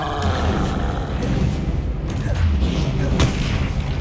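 A Bombarda blasting spell explosion in the video game Hogwarts Legacy, a loud booming blast with a rumbling low end, quickly followed by another, all dense and close.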